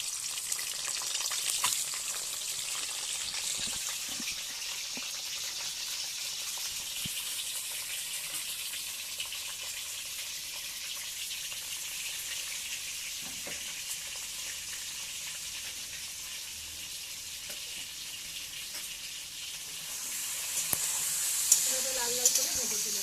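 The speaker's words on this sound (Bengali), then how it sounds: "আগে ডিমগুলো ভালোভাবে লাল লাল করে ভেজে নেব।" Eggs fry in hot mustard oil in a wok for an egg curry, giving a steady, moderate sizzle that runs unbroken and swells slightly near the end.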